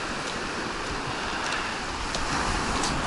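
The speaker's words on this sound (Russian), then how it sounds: "волна небольшая, ветер, конечно, вообще лютый" Small sea waves wash onto a beach in Gelendzhik while a fierce wind blows, making a steady broadband roar with faint breaking surges and wind buffeting on the microphone, with no voices.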